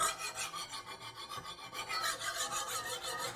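A file scrapes back and forth along the hardened, quenched steel edge of a handmade knife in a bladesmith's test of the hardening. The rasping strokes come in a steady rhythm, up close and bright, with no speech.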